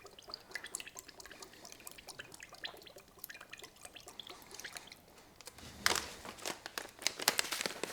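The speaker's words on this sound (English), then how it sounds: "soy sauce. I like to free pour it." Soy sauce is poured freely over rice in a pan, a faint, irregular trickle and crackle that swells into a louder, denser sizzling spatter for the last couple of seconds, with no talking.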